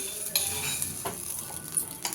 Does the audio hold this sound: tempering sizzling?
yes